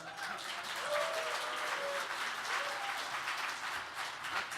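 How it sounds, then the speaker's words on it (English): A conference audience applauds steadily for several seconds, a dense, even wash of clapping with a few faint voices underneath. "can people just give us a round of applause to let us know how interested they are?"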